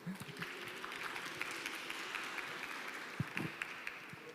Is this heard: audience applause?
yes